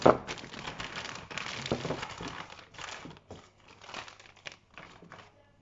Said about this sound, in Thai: แล้วก็จะเก็บใส่ถุงแพ็คไว้อย่างนี้เลย